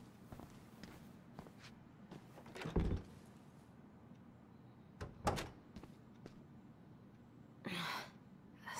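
A door being shoved open in the video game Tell Me Why: a few separate thuds and scrapes, with a louder bump near the start and a rustling push toward the end, fairly close against a quiet room tone.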